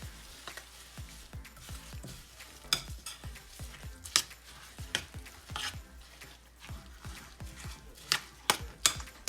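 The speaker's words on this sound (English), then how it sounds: "So stir in your oatmeal." Peanut butter oatmeal mixture being stirred with a spoon in a bowl, a steady run of close, soft scraping and clicking strokes with no talking.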